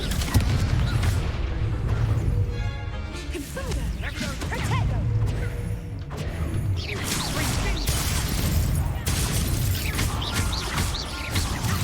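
Confringo fire curse blasts in Hogwarts Legacy land as repeated booming explosive bursts over dense game effects and music, with some talking mixed in.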